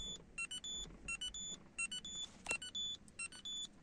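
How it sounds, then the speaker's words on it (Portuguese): Citroën C4 door-open warning chime, sounding with headlights on or key in ignition: a repeated series of bright electronic beeps in quick clusters, steady and clear over a faint car-interior hum, with no talking. "você abre a porta com o farol ligado, ou se não com a chave na ignição, e ele te dá um aviso sonoro bem interessante"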